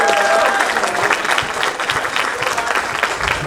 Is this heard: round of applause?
yes